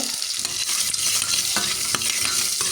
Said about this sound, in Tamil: அப்போ பட்டர் தான் கிடந்தது ரெண்டும் கை போட்டு பொறிச்சு எடுத்து